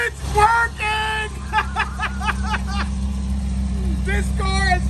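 A 1966 Jaguar E-Type, started for the first time in 52 years, idles steadily with a low continuous engine hum, while people talk loudly over it throughout.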